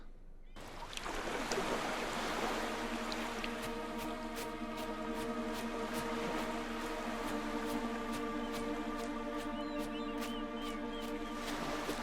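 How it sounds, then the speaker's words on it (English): Layered adaptive video game music in FMOD and Unreal Engine, using vertical reorchestration, fades in and holds steady, sustained tones with a soft recurring percussive tick, fairly quiet and without voices. "adding adaptive music using a vertical reorchestration method"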